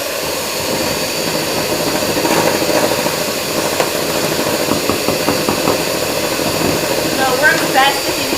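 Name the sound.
whipping cream with an electric mixer on high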